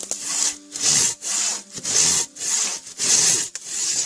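A Silky Katana Boy 650 handsaw cuts through a log, with six or seven long, loud rasping strokes in a steady back-and-forth rhythm, each separated by a brief pause and heard close up.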